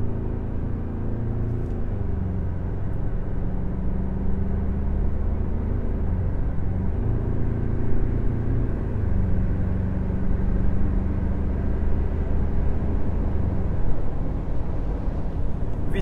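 A 2021 Ford Ranger Raptor with a 10-speed transmission drives in sport mode, its engine a steady, loud, low rumble from inside the cab that rises and falls slightly with shifts and runs unbroken throughout.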